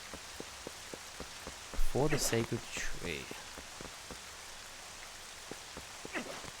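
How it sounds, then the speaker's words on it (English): Steady rain falls in the Zelda Twilight Princess game world as a soft, even hiss with faint drop ticks, continuing under a short stretch of spoken narration. "These don't light because it's raining right now."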